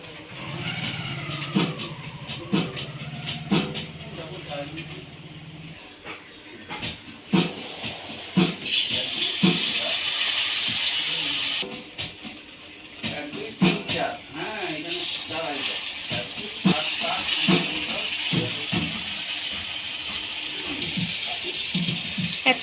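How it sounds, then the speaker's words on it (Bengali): Taro pieces dipped in gram flour batter fry in hot refined oil, giving a steady broadband sizzle that swells as more pieces go in. A voice talks over it at times. "এক একটা শোলা কচুকে নেব দিয়ে বেসনের মধ্যে ডুবিয়ে তেলে ছেড়ে দেবো"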